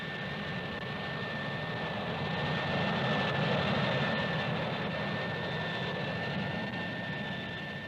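A Harrier jump jet flies overhead as a steady, broad jet roar with a thin high whine, swelling slightly in the middle and holding constant throughout.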